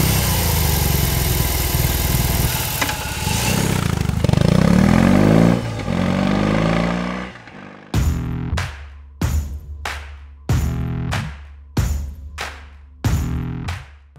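A BMW R 18 with a 1802cc boxer twin fires up and idles with a loud, shaking rumble, then gets several sharp throttle blips that rise and fall in quick succession.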